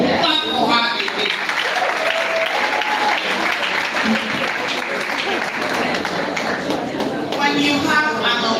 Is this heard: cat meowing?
no